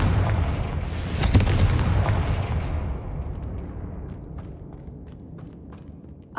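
Confringo fire spells burst with a loud boom in Hogwarts Legacy, a sharp blast standing out at the start, then rumbling debris and scattered pops fading away.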